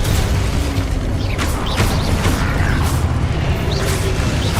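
A Confringo blasting spell fires in the Hogwarts Legacy video game, a loud booming burst over a constant dense roar of combat noise, with a few sharper bangs and pops scattered through the fight.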